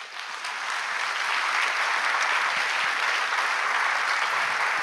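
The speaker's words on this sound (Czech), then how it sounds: "Prosím ještě jednou potlesk." Dense, steady applause from an audience after a talk about emotions and life with God, a loud continuous wash of many hands clapping throughout.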